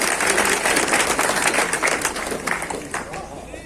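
A village crowd in Chhabriya claps and cheers in welcome for minister Sanjeev Baliyan at a rural gathering, a dense, loud wash of applause with voices shouting over it throughout.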